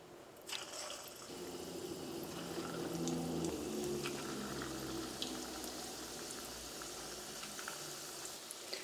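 Semiya bird's nest shapes fry in hot oil, a soft, steady bubbling hiss that swells as they go in and then holds at a quiet, even level with faint pops.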